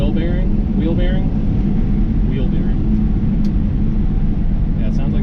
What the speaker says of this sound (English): it sounds like maybe a wheel bearing is going bad as well